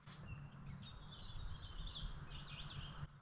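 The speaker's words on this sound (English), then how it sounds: "Birds." A bird sings a thin, warbling high-pitched call in the morning at a cabin building site, somewhat distant and faint over a low rumbling background.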